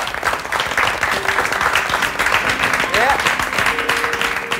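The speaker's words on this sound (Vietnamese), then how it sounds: "anh em vỗ tay cho tôi" Applause from an audience at a Vietnamese televised music show, dense clapping lasting a few seconds with voices and tonal sounds mixed underneath.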